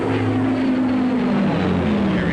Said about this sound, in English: Or the Heinkel 111K.